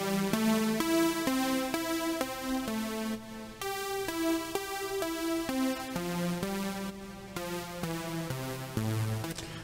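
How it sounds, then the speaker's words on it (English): Robotic vocoder voice effect made in Ableton Live 12, a buzzy synthesized tone stepping through pitched chords in a steady rhythm, loud and continuous for several seconds with no plain talk. "So this is what the vocoder could sound like."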